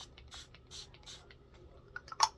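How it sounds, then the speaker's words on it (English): A few short, soft hissing sprays of makeup setting spray from close by, scattered and quiet, then a sharper burst with a light click near the end. "So now I'm gonna spray one more time with setting spray"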